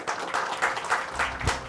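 A short burst of applause from a small audience, scattered hands clapping at a moderate distance for under two seconds.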